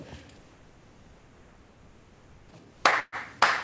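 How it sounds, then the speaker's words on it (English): Two sharp, close hand claps ring out near the end after a quiet stretch of room hiss, opening a song at a cafe open mic. "It starts with a couple claps."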